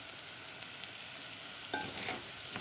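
Turmeric mixture being stirred in a frying pan, a soft continuous sizzle with brief scraping strokes of the stirring utensil, close and fairly quiet.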